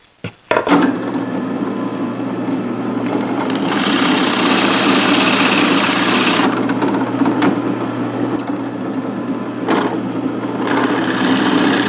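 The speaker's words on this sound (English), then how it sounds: "I'm going to counterbore and then drill through for these T-nuts on the back" A power drill whirs loudly and steadily nearby, counterboring holes for T-nuts in wood, with a continuous grinding hum that briefly changes pitch as it cuts.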